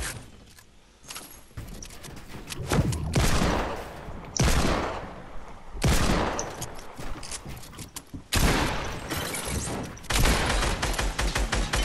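Desert Eagle pistols fire in bursts of rapid shots during a first-person shooter match, loud and close, with brief lulls between volleys.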